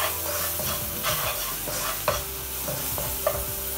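Ingredients for cauliflower fried rice, seasoned with salt and pepper, sizzle and fry steadily in a pan, with a few sharp utensil clicks and stirring scrapes over the continuous crackle.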